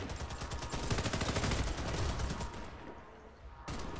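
Rapid, loud gunfire in a video game, a dense burst of closely spaced shots that carries for about three seconds, breaks off briefly and then resumes.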